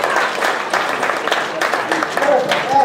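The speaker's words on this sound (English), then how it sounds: "Let's give Jackson a big round of applause, everybody." A crowd applauds a child at a university chemistry demonstration night, a loud, continuous rush of clapping with some cheering voices mixed in, lasting the whole few seconds.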